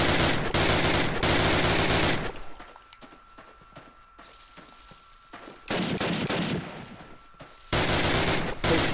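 Loud sustained bursts of automatic weapon fire in the Call of Duty WWII video game, three heavy volleys separated by quieter stretches of distant battle noise and a faint steady tone.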